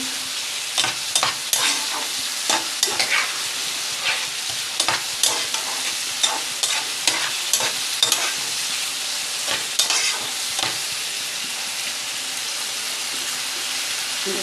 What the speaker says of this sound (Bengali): দেখুন আমার মশলাটা কষানো হচ্ছে